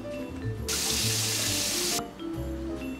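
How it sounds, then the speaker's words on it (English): Hands are washed under a running kitchen tap before cooking steak, a loud steady gush of water lasting about a second and a half, framed by faint clinks and room noise. "first always wash your hands"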